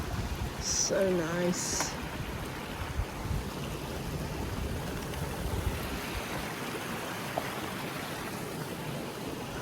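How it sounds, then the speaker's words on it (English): Steady broadband rush of river water flowing at a trail river crossing, constant and fairly close, with a few brief spoken words near the start. "River crossing."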